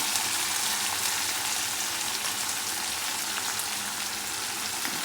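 Onions with turmeric frying in hot oil in a pan, giving a continuous bright sizzle with fine crackling, steady and close throughout, with no voices.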